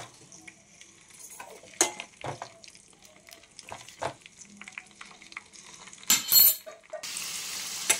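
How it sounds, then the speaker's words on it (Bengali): Homemade hair oil fries in a pan on a gas stove with a soft crackling sizzle, scattered scraping stirs and occasional metallic clinks of utensil against pan. The sound is close and moderate, with a brief louder clatter near the end. "দেখেছো, একদম ভাজা ভাজা করে নিয়েছি।"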